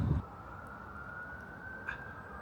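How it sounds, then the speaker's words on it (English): A distant siren wails as a faint steady tone across a quiet night street in Sheffield, alone with a soft low rumble beneath. "I mean, I've got to admit, I don't like the sirens either."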